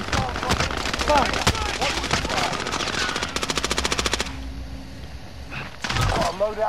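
Automatic gunfire in the video game Call of Duty: Modern Warfare, dense bursts of rapid shots followed by a fast regular stream of rounds, loud and close, then a pause before more shots, with game voice lines in the mix.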